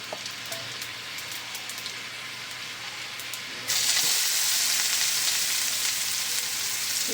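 Cumin and onion frying in hot oil for a gravy, a steady close sizzle that jumps to a louder, brighter hiss about halfway through as the onions go in, with faint stirring.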